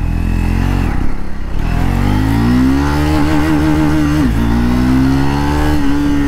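Triumph Scrambler 400X motorcycle launching hard from a standstill, its engine revving up loudly and continuously with climbing pitch through several gear changes, close and alone.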